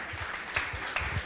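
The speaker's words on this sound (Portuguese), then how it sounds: "Salve de palmas" A church congregation claps together during a healing and deliverance service, a dense, even burst of applause with a few sharper claps standing out, no talking over it.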